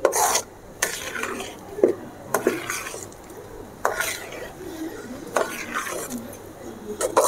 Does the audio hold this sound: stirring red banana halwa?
yes